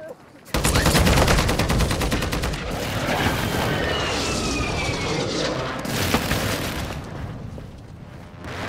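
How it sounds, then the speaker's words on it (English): Airstrike explosions in Warzone 2 hit as a loud, sustained barrage of rapid blasts and booming impacts, dense and close for several seconds before settling into a rumbling wash of smaller bursts. "Airstrike."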